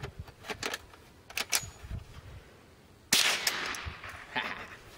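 A Ruger 10/22 airsoft rifle with a P90-style stock fires scattered single shots, crisp snapping pops with clattering mechanical clicks, close by and fairly quiet, followed by a louder burst of rattling noise.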